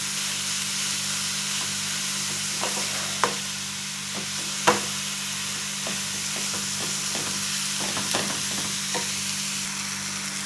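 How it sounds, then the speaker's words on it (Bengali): Apple pieces for apple makhana kheer stirred in a pan, a steady sizzling hiss underneath with scattered light clicks and scrapes of the spoon, a couple of sharper knocks standing out. "আপেলটাকে একটু নেড়ে নেব"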